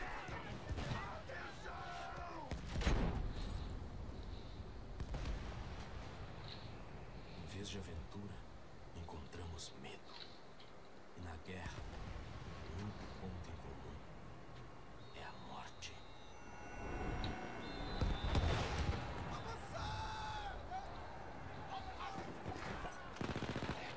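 Bursts of rapid gunfire crackle in Battlefield 1, with louder volleys early and again near the end, while voices talk over the action throughout.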